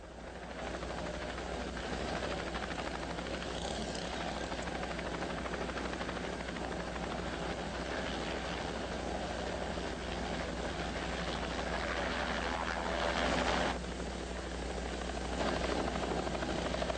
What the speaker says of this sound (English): as the helicopter lifted them out into shore